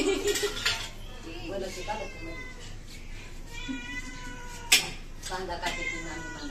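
A cat meows a few times at moderate distance while people talk nearby about giving it milk, with occasional clinks of dishes in the background.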